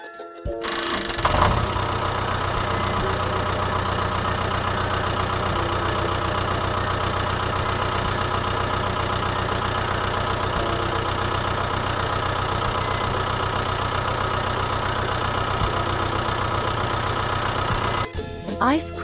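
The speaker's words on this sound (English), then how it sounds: "tractor." Tractor engine starting up and then running at a steady, loud, close chugging idle for most of the stretch before cutting off at the end.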